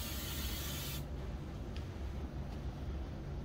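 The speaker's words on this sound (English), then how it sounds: "I just spray it down" A steady hiss of aerosol hairspray sealing a model railroad tree runs for about a second, then stops, leaving a low background hum.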